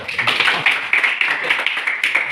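A class in an Indonesian lesson on sermons and preaching claps together, a continuous loud patter of hands with slightly uneven bursts throughout.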